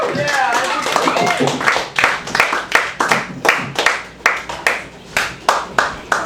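Audience applause at an open mic comedy night breaks out after a voice at the start and settles into steady, rhythmic clapping from a small crowd, fairly close and loud.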